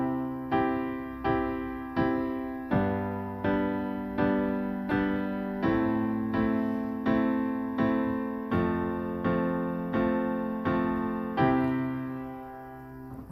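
Level-one beginner piano chord exercise: a steady sequence of simple block chords, each struck and held briefly, about a dozen in an even rhythm, clear and close with no talking.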